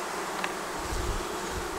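A steady, dense buzzing of many honeybees in a hive, a continuous close hum with no voices.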